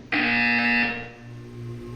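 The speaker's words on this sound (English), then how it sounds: "When you hear the buzzer, look up at the ceiling." A loud, harsh electronic buzzer in the video game Portal 2 blares for about a second, then fades into a low hum.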